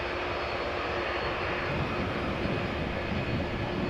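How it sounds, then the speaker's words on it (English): An Airbus A330 airliner approaching Amsterdam Schiphol Airport gives off a steady, loud engine roar and broadband rush that holds constant, thickening slightly in the low end partway through. "What you're hearing most likely is another A330"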